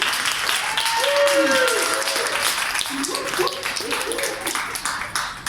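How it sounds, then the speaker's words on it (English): Audience applause follows a talk at a book launch event, a moderate round of clapping that rises and then thins out, while someone speaks over it and her voice gradually takes over. "Please give her a round of applause."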